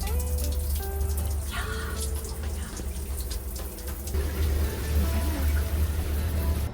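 Steady running water from a shower in an Amtrak sleeper bedroom, a continuous close hiss and patter that holds at an even level for the whole stretch, with no voices over it.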